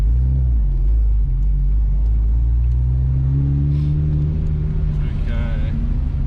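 Drift car engine with a dead clutch at Powercruise, a loud steady low rumble with rising revs running throughout under nearby talk.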